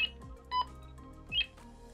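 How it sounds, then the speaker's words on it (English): A Tempo TM900 butt set emitting short electronic beeps, with a warbling ring from the far unit repeating twice, faint and clear with no talk. "You hear some beeps going on, and you hear the far one ringing."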